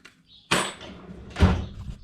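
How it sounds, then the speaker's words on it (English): A drawer is shoved shut with two rough wooden thumps and scraping, close by, without talk. "Oh, jammed it in the drawer."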